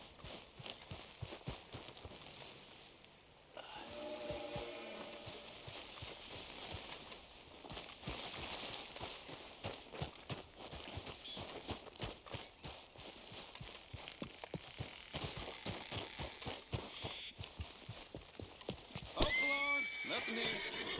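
A horse gallops with rapid, rhythmic hoofbeats and lets out a shrill neigh near the end, all in the Red Dead Redemption 2 video game. Voices talk over the hooves.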